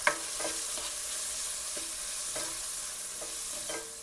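Onion sizzles in a pan with curry paste, salt and curry powder while a utensil stirs it in a few quick scraping passes, close up against a constant hiss, no voices.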